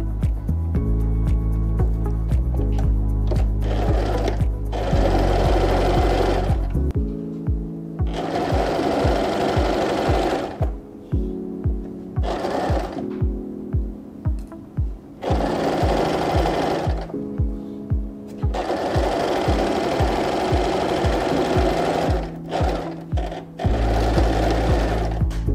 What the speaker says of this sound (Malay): Okay, kita akan jahit.